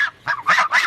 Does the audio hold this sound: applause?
no